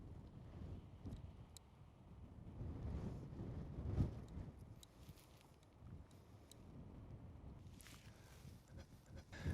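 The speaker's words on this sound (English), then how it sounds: "this wind is really blowing here in West Texas" Strong gusting wind in open West Texas country, buffeting the microphone with a steady low roar that swells and drops, with one sharp gust peaking around the middle.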